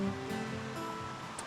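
Water at Stony Creek rushing steadily over rocks near the usual crossing point, a continuous close broadband wash with no pauses and no voices.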